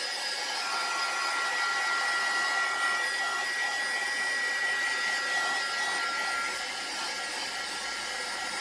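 A hair dryer blows steadily on a junk mail art piece, a continuous airy whoosh that runs the whole time, quiet and alone with no voices.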